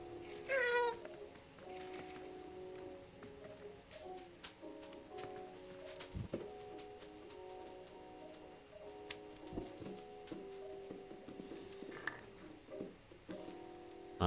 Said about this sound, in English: Press B to meow.